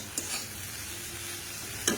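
Maggi noodles frying and being stirred in a pan, a steady soft sizzle with a couple of scraping stirs near the start and end, close and moderately quiet.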